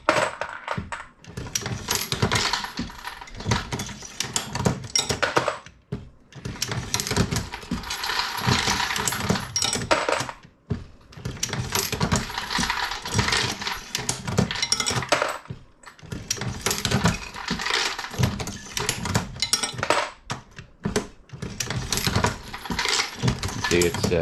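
A Dillon 650 progressive reloading press cycles while loading .223 ammunition, with about five rhythmic rounds of metallic clanks, ratcheting and clinking brass, each stroke separated by a brief pause and heard up close.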